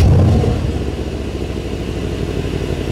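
Mercedes-AMG C63 S facelift V8 engine starting up, a loud low rumble that settles quickly into a steady idle, heard alone without talk.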